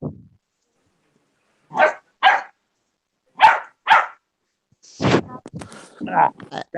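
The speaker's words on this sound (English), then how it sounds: "We have Dave's dog." A dog barks indoors, two close pairs of loud barks separated by silence, followed by people talking.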